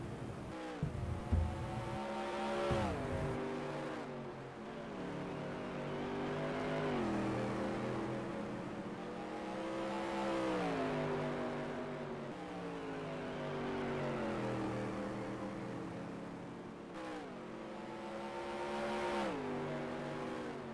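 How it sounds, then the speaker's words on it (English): Non-wing supermodified race cars roaring around an oval track at night, their engines droning and swelling in pitch in repeated waves as they circle, loud and continuous. "he just went by Carl Becker to lap up to the top 5."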